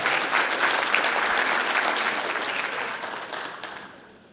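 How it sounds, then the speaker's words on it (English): An audience at a high school basketball awards event applauding the MVPs, steady clapping from many hands that gradually fades out, fairly loud and filling the room. "let's clap it up for the Calvary Christian MVPs"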